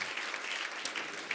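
Studio audience applauding at a German late-night show, a dense, even wash of clapping held steady at moderate distance with no voices over it.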